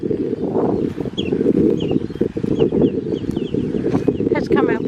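Birds chirp and call on a small makeshift island in a drought-shrunk lagoon at Mullers Lagoon, Australia, their short calls scattered and fairly distant beneath a loud, constant roar of strong wind.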